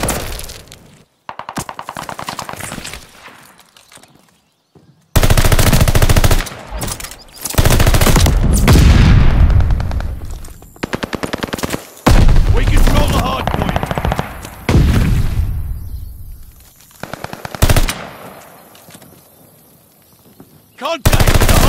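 Loud, close machine-gun fire in Call of Duty Vanguard during a hardpoint match comes in long sustained bursts with short pauses, mixed with explosions and game announcer voices.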